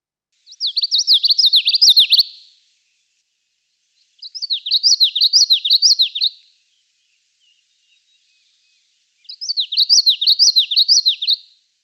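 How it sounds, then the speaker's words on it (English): A common yellowthroat's song plays back as three clear, bright phrases of rapid repeated rolling notes, each about two seconds long and separated by silence. "that distinct witchety, witchety, witchety is usually going to be the common yellow throat"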